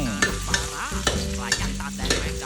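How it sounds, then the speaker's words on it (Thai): Rice being stir-fried with garlic and nam prik ta daeng in a pan, a spatula scraping and tossing in steady strokes over continuous sizzling, with no talking. "ต่อไปเราก็เอาข้าวไปผัดกับกระเทียม"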